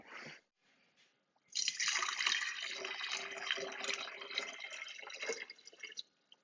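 Water pours steadily into a Terraplanter for several seconds after a brief quiet start, a close, continuous splashing rush that trails off at the end.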